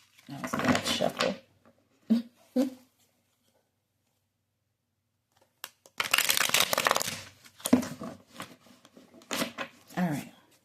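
Tarot cards shuffled by hand in short papery bursts, a long one at the start and two quick flicks, then a pause before several more close, crisp riffles.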